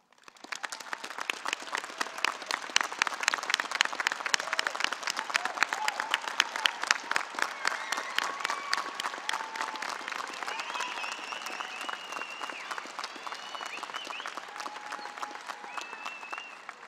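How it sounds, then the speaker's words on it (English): Heartfelt applause from a crowd at a 2018 Arrowhead Park Early College High School graduation ceremony honoring parents and guardians, sustained dense clapping that swells early and holds steady, with scattered faint calls and whistles. "everyone joins me in giving them a heartfelt round of applause"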